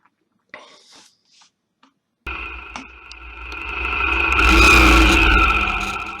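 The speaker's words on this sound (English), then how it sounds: "So here I accelerate fast, but I'm careful not to do more than 85 or 90" A motorcycle accelerating hard on the road: faint sounds at first, then an abrupt loud engine roar that climbs and swells to a peak with rushing wind before easing slightly, close and dominant.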